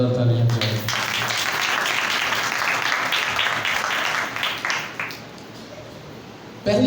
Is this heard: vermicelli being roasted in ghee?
no